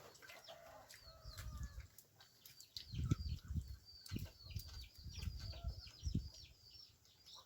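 Chickens cluck and flutter at close range around a rural household, with soft bird calls overhead and several low scratchy bursts of activity scattered through the stretch, no talking.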